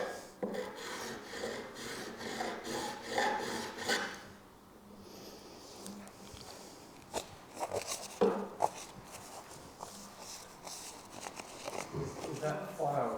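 A medium mill file rasps back and forth across guitar frets during a fret restoration, in repeated bursts of scraping strokes that pause briefly midway, with people talking over parts of it.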